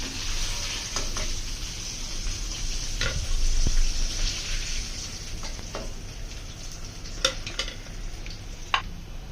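Chicken wings, KFC-style with a crumb coating, fry in hot oil in a steady broadband sizzle, with occasional louder pops and a few utensil clinks and stirs near the pan.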